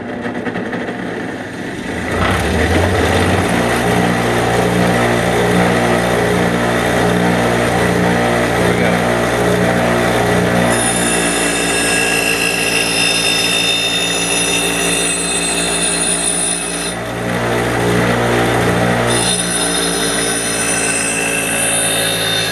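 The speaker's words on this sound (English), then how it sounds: "we'll go back to the hand grinder to finish the to keep our secondary grinds coming down" A hand grinder cuts the secondary bevels on a large survival knife blade, a steady loud motor whine with a shifting pitch that holds for the whole stretch and dips briefly near the end, with no voices.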